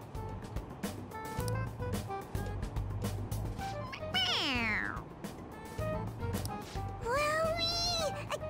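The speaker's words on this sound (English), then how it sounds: "It meows when you press on its head." A toy cat in the game Persona 5 Royal meows when pressed on the head, giving two drawn-out, sliding mews a few seconds apart over a steady low background hum.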